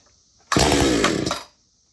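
A 20-inch 5200 chainsaw, started cold with the choke on, bursts into a loud raspy roar that holds for about a second, then sputters and cuts out, leaving faint hiss.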